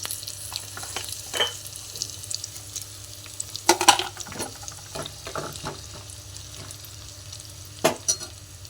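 Asafoetida and dried red chillies fry in hot oil for a dal tempering, a soft continuous sizzle with a few louder clatters and bursts of stirring scattered through.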